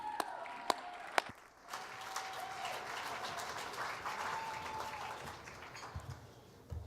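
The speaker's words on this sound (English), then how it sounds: "I thought I'd get more applause than that" Modest audience applause at an awards event, a few sharp claps standing out near the start before a thinner, steady patter of clapping continues at moderate distance, with a faint sustained tone running underneath.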